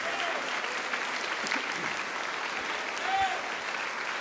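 A church congregation applauds in the name of Jesus, steady, somewhat distant clapping from many people continuing throughout, with faint voices underneath.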